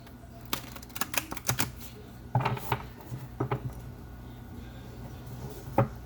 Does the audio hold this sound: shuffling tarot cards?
yes